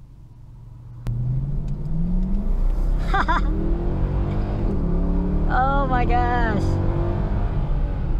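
A 2019 Toyota Tundra SR5 4x4 pickup's engine kicks in and revs hard, a deep rising rumble that stays loud and close while the driver exclaims over it.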